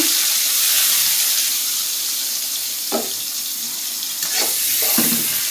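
Onion and green chili frying in a pan for an egg bhuna dish, a steady broad hiss of sizzling oil with a few sharp stirring scrapes near the end, fairly loud and close with no talking.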